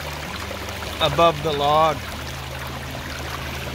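Water flows and trickles over rocks in a lined backyard stream and waterfall feature, a steady close wash heard beneath a man's brief speech in the middle.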